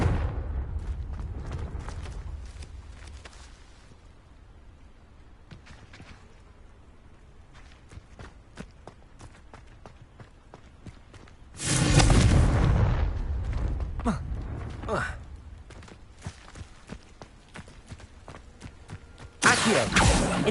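Two Confringo spell explosions in Hogwarts Legacy burst out loud and broad several seconds apart, each a sudden roaring blast between quieter stretches of footsteps and low game ambience.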